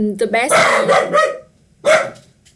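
A pet dog barks a few sharp times early on, close to the microphone, with a further bark burst near the end, all heard over a person talking during a live online Q&A.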